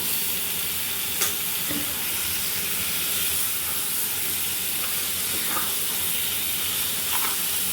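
Fish belly pieces dropped into hot spiced oil, a loud continuous hiss and sizzle close by, with a few faint clinks of utensils against the pan and no talking.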